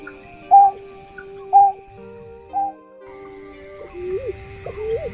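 Recorded call of a painted snipe (nhát hoa) played as a hunting lure: three short, clear whistled notes spaced about a second apart, followed by softer rising warbles over a faint steady tone.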